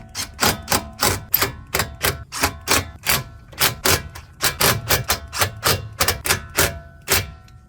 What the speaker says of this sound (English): It's not an impact, it's just like regular screwdriver